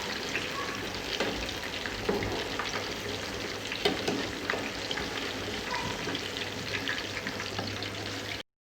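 Fish fries in a pan with a steady, continuous sizzle and crackle, quiet and close, and cuts off abruptly at the end.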